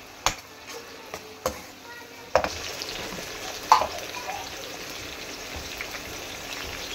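Two tomatoes drop into a hot pan of egg and potato curry and fry with a steady soft sizzle, punctuated by several sharp clinks and stirring knocks.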